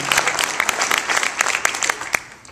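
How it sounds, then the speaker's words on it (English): A corporate event audience gives a round of applause, many hands clapping densely and steadily nearby, loud, before fading slightly at the end. "That last round of applause"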